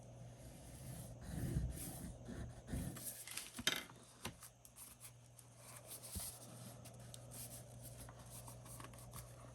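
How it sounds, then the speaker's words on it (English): Paper is scored with a tool along a fold line while an envelope journal is being made, giving faint, soft scratchy strokes and light taps in a quiet room. "I'm just going to score it a little bit just to make it a little easier to fold"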